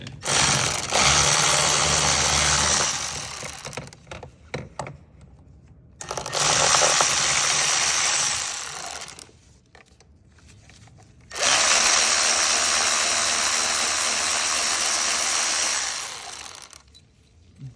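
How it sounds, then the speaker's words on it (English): An electric ratchet loosens bolts on the water pump of a 1.4 VW Golf, whirring loudly in three long bursts separated by short pauses, with no speech. "I just use an electric ratchet"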